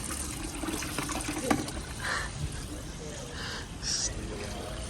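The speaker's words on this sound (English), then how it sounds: "I feel like you've been sitting here filling this bucket for like 20 minutes" Water runs steadily into a bucket with a constant hissing splash at moderate level, while faint voices murmur in the background.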